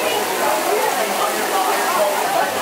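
Summer rain falls steadily across the open shopping district at Disney Springs, Florida, a broad, even hiss of drops with no break.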